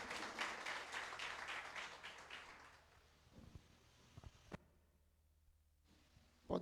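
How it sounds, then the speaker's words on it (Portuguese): Church congregation applauding, a quiet burst of rapid clapping that fades after a few seconds into a hushed room with scattered soft knocks. "Recebe o vaso de Deus com palmas, amém?"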